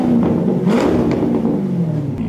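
A Corvette engine revs hard beside a Porsche 911 challenge, a loud, close roar that swells and holds steady throughout with a rising whine partway through, no voices over it.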